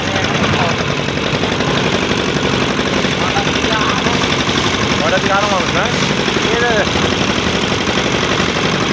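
A boat's diesel engine thuds steadily and loudly as the vessel pulls away on the Buriganga River at Sadarghat, with people talking close by over the constant chugging drone.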